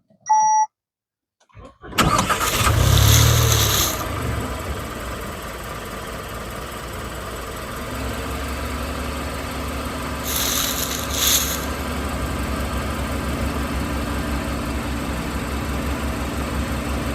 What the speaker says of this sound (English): And this is a 3-cylinder engine.